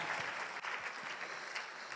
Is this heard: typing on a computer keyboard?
no